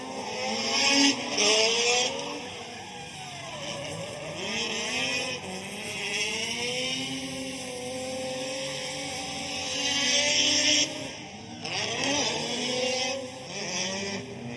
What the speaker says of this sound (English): Not much talking needed for that rotary to rip by.